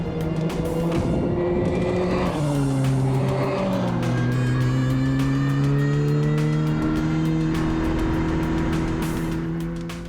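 A race car on the Bahrain track revs and pulls away, its engine note climbing and holding loud and close for about ten seconds, with a faint squeal of tires.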